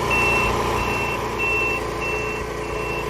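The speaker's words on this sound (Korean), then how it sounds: "운전대를 잡기 무섭게 요란한 경보음이 울립니다." A loud warning alarm on a farm vehicle beeps in a steady repeating pattern of evenly spaced tones over a continuous engine rumble, close and prominent throughout.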